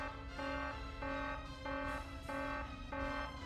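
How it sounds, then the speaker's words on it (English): Collision alarm in the Star Trek Klingon Academy space game: a repeating electronic buzzer tone pulsing about every 0.6 seconds, steady and fairly loud with no talk. "That's the collision alarm."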